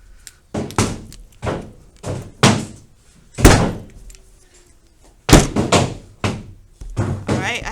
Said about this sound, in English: So slam it down and then fold it a different way than you did before